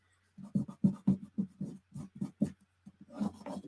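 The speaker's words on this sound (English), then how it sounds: "Do not burnish so hard." Paper is burnished by hand during junk journal crafting: a series of short, close rubbing and scratching strokes in an uneven rhythm, with a denser burst of rubbing at the end.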